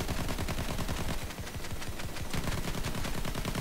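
Rapid machine-gun fire from an airplane strafing in Battlefield 1, a dense continuous rattle of loud close bursts filling the whole stretch with only a brief dip midway.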